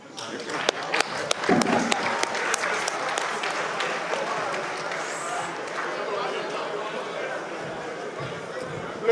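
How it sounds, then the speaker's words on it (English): Audience applause for former presidents, dense clapping with crowd murmur and a few louder claps over nine seconds, steady and fairly close. "There's a round of applause for our living heroes"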